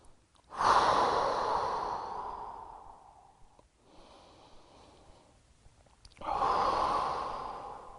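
Slow, deep breaths during a yoga stretch: two long, loud exhales through the nose with quieter breathing between them, close and alone with no talk.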